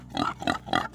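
A pig grunts and oinks three times in a steady rhythm, loud and close, with no other sounds around it.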